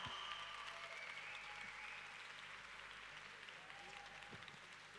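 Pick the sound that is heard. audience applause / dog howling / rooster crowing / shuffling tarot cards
audience applause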